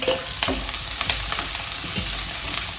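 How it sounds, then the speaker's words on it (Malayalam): Chopped onions fry in a pan with a loud, close, continuous sizzle and scraping stirring strokes throughout. "ഇനി ഇതിലോട്ട് 2 ഇടത്തരം സവാള അരിഞ്ഞതേ, പിന്നെ കുഞ്ഞായിട്ട് അരിഞ്ഞത് അതിട്ട് കൊടുത്തേ."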